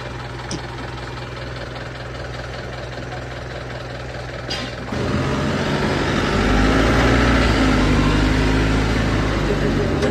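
A truck engine runs under load while towing a stuck truck free with a thick rope, a steady low rumble that grows louder and heavier partway through, with a brief voice early on.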